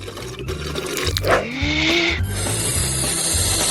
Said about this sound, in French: Je vais faire des bulles.